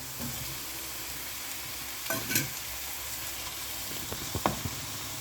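A single tomato sautéing in a pan during mutton biryani preparation, a steady close sizzle with a few scraping, clattering stirs of a spoon against the pan.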